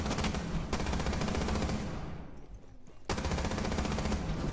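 Rapid automatic gunfire from the shooter Rainbow Six Siege, sustained loud bursts of shots with a brief pause in the middle before firing resumes.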